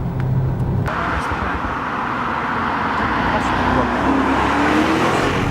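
Audi RS7 driving hard through corners, a loud, steady engine roar with rolling road and tyre noise from inside the car, a voice heard briefly at the start.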